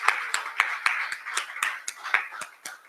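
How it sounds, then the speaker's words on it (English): Sparse, rhythmic hand clapping in a hall at a community event honoring Black Star Industries, roughly a dozen distinct claps from a small group, fairly close and with no talk. "Round of applause for Black Star Industries"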